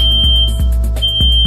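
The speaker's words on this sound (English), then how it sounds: "The cabinet has an audio-visual alarm system with an immediate response to the accidental coverage of the front air grill" A safety cabinet's audio-visual alarm goes off when the front air grill is covered: a loud, piercing electronic beep pulsing rapidly and evenly, close and with no voices.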